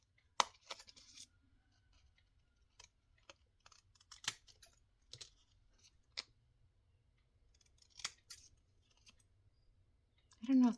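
Decorative postage-stamp-edge scissors snip through paper craft tags in sparse, crisp clicks and short cutting bursts spaced across a quiet room, close and soft, with a brief voice at the end.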